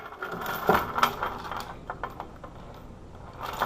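A bolt cutter bites into a Master Lock M50XKAD disk lock, giving a sharp metallic snap followed by scattered clinks and rattles of metal at close range.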